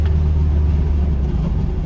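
A 1966 VW Fastback engine running badly, giving a loud, steady low rumble with a rough, uneven drone throughout and no talking.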